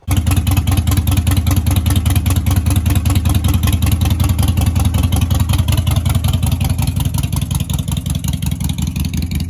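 A Harley-Davidson Sportster 1200 motorcycle engine catches and settles into a loud, close, steady idle with its characteristic uneven pulsing lope, running on alone throughout.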